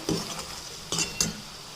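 A spoon stirring bitter gourd curry with sambar powder in a pan, with soft scraping and a couple of sharp metallic clinks against the vessel, close and fairly quiet.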